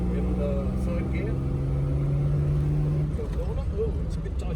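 A Jaguar's engine pulls from low revs in third gear, a low steady drone whose pitch rises slowly, then a speaker talks over the car's interior rumble.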